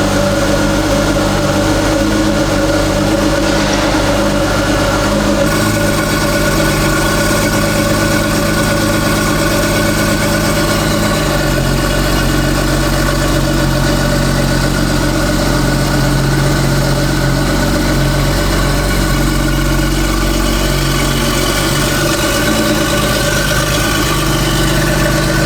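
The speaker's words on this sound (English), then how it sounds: "Listen to that cold start." 1988 Ferrari Testarossa engine idling after a cold start, a loud, steady, slightly uneven rumble that holds throughout with no voices over it.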